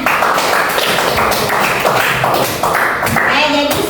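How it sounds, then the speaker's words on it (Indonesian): A class of students clapping their hands in a classroom lesson, a steady dense patter of many small hands that stays loud and close throughout, with some voices mixed in. "Oke, tepuk tangan."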